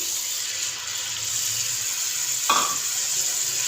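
Ground onion paste with whole spices sizzles steadily in a karahi, a dense, hissing fry that runs throughout, with a brief clank of a utensil partway through.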